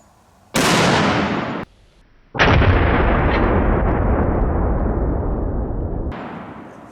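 A Barrett .50 caliber rifle fires outdoors with a massive, sharp report followed by a long rolling echo, then a second loud blast that trails off slowly, nearby and alone without talk.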